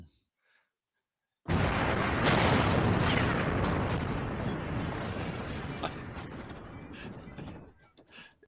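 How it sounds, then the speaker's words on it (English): Explosion sound effect played on a live streaming show: after a moment of silence a sudden loud blast bursts in, then a long, heavy rumbling roar slowly fades over several seconds. "We like to make sounds of explosions here in the show."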